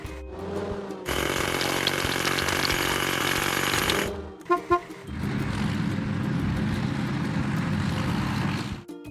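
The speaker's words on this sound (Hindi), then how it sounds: "हाइड्रोलिक हथौड़ा।" A hydraulic hammer pounds stones in a house-building video game, a loud continuous mechanical rattle that stops, gives a few sharp knocks, then resumes as a rougher, lower hammering.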